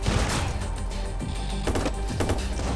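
Rapid bursts of gunfire in the video game Watch Dogs, repeated shots and crackling volleys at a steady level, fairly near, with no talk over them.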